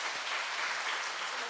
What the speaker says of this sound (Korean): 우리 어르신들 박수 한번 치며 우리 환영하게 하고 축복하겠습니다